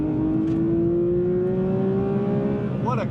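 Porsche 911 GT3 flat-six engine revving hard toward its 9,000 RPM redline in third gear, a loud, rising whine climbing steadily before the note cuts off and drops.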